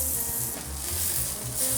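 Cubed beef short rib frying in a pan, a steady close sizzle with soft crackle throughout, continuous and fairly loud with no voices.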